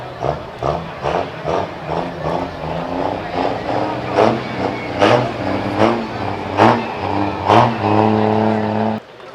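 Pulling tractor engine revving hard at an interstate truck and tractor pull hosted by a fire department, repeated loud surging bursts with a steady deep drone, close and dominant, with crowd noise and an announcer's voice mixed in.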